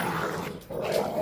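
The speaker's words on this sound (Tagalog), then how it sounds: "Ingay ng mga aso natin." Dogs bark and growl close by in a short, busy burst, with a brief dip in the middle before the noise picks up again.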